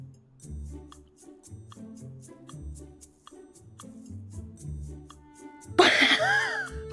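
A person coughs while choking on a hiccup. One sudden, loud, harsh burst near the end follows a quieter stretch of soft, rhythmic low thumping.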